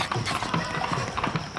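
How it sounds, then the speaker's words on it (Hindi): Horse hooves clip-clop in a steady rhythm of close, repeated knocks that carry on through the short stretch. "हीरो घोड़े पर आ रहा है।"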